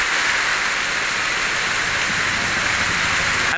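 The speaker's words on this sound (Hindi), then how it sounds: "लेकिन बारिश सुबह से हो रही है।" Steady, dense hiss of cyclone-driven rain falling continuously, close and fairly loud, with no voices.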